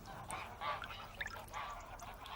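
Greylag geese honk in a faint, distant chorus of repeated calls, overlapping in loose bursts over a quiet outdoor background.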